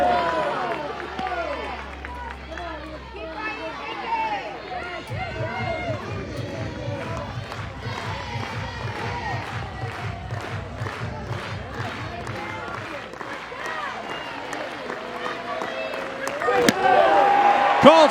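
A softball crowd at an NCAA game between Minnesota and Florida rises to its feet with a full count and two strikes, keeping up a steady roar of cheering and rhythmic clapping, and a commentator talks over it.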